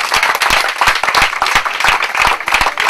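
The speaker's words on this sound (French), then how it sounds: "Donc, on acclame très fort." An audience at a theatre performance in Côte d'Ivoire bursts into loud, steady applause, a dense crowd of hands clapping rapidly and evenly close by for the whole stretch.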